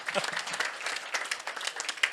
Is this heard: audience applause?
yes